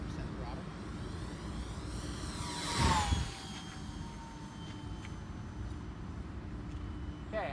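A 1.2 m RC Spitfire model plane on a 4S pack runs at full throttle with a thin electric whine that swells as it passes close, then bends lower and fades into the distance over faint wind noise.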